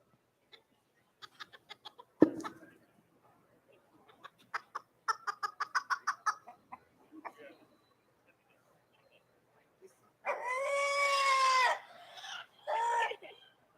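A Serama bantam chicken at a poultry show gives scattered soft clucks, then a longer, louder crowing call near the end, with quiet murmurs of people nearby.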